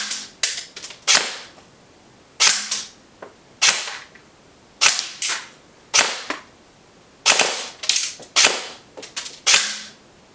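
An upgraded airsoft SR25 rifle with an SHS M140 spring and stock hop-up unit and barrel is test-fired, giving about a dozen sharp, close, crisp shots in short separated groups with pauses between them.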